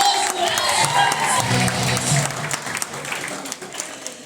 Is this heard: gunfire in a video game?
no